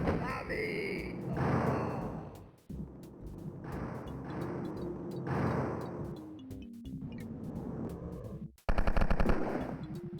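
Gunfire in the video game Wolfenstein 3D comes as bursts of rapid machine-gun fire and shots over roughly ten seconds, loud and close, with a final dense burst, mixed with other game sounds.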